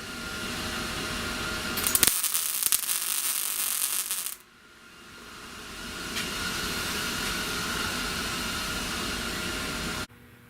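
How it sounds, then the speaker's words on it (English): A welder set high runs a bead on thick steel while repairing a rusted radiator core support, a harsh, close, continuous crackling hiss in two long bursts separated by a brief pause, then cut off abruptly. "I got my welder up pretty high"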